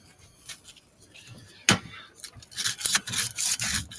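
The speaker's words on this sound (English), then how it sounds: "Using a small piece of sandpaper, you just want to kind of hit that rusty spot on there." A small piece of sandpaper scrubs at a rusty spot in a shop, giving close, uneven rasping strokes that build into a busier run of scratching toward the end, with one sharp knock partway through.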